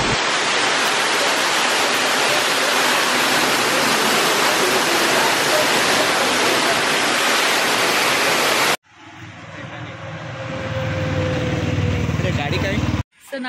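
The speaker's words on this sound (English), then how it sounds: "this beautiful waterfall." A waterfall in Kerala roars loud and close as a constant rushing wash for several seconds, then cuts to a much quieter, distant scene.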